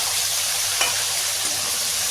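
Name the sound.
fish frying in a pan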